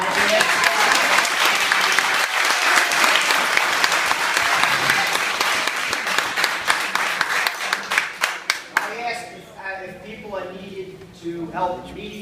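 Sustained audience applause at a public meeting, dense and loud at first, then thinning into scattered individual claps toward the end, with a voice starting to speak as it fades.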